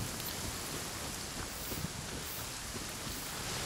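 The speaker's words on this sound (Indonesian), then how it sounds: "Waduh, ada petir lagi." Steady heavy rain pours in the Genshin Impact video game, a dense continuous hiss filling the scene at even loudness, with no distinct thunderclap standing out.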